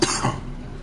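A single short cough, close and fairly loud, fading quickly into quiet.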